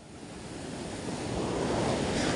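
Floodwaters and surf churn during a typhoon, a continuous loud roar of crashing waves mixed with gusting wind on the microphone, building slightly in strength.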